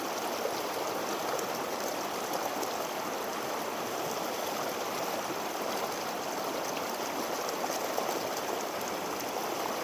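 Stream water runs into a pool at white-water riffles, a loud, steady, broadband rush that stays close and even throughout with no voices.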